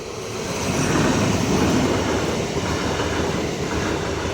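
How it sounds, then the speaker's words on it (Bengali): A passenger train pulling into a station, its broad rumble and rhythmic wheel clatter swelling, holding steady, then easing slightly, with no voices over it. "তো ফাইনালি ট্রেনটা ঢুকছে"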